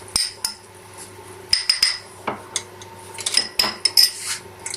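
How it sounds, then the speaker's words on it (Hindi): Coloured rice being mixed in a metal pot for mutanjan or zarda, with a spoon clinking and scraping against the pot in scattered, irregular knocks and bright clinks, close and fairly loud, no speech. "इस तरह से अच्छी तरह से आपने चावलों को मिक्स करना है ताकि कलर अच्छा सा आ जाए"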